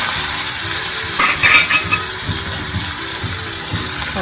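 Chopped spiny gourd (kantola) hits a hot pan of oil spiced with turmeric and asafoetida, setting off a loud, steady, close sizzle with a faint stirring scrape midway.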